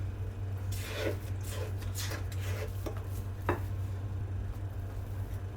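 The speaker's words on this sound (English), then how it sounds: "I'm going to use this rubber spatula just to fold this together" A rubber spatula folds whipped cream into a cream cheese cheesecake filling in a bowl, making soft, faint scraping and swishing strokes with one sharper tap, over a low steady hum.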